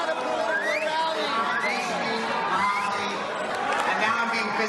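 A film festival audience cat-calls and yells at a man on stage, a loud continuous hubbub of overlapping shouts, whoops and jeering voices with no single speaker standing out.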